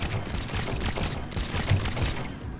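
Mini cannons on a Trailmakers vehicle firing in a rapid, continuous barrage, dense overlapping thumps and blasts filling the scene at steady loudness with no pauses.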